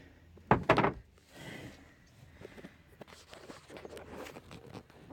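A gas tank cover being popped open on a car floor to reach the fuel gauge sending unit gives a couple of sharp, close plastic snaps and thunks near the start, followed by quieter handling rustles.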